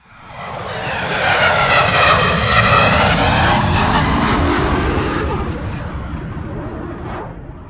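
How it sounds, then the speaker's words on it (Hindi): A cargo plane flies overhead with a loud, broad jet-engine roar that swells in, holds steady for several seconds and slowly fades, heard alone without speech. "ये है कार्गो प्लेन।"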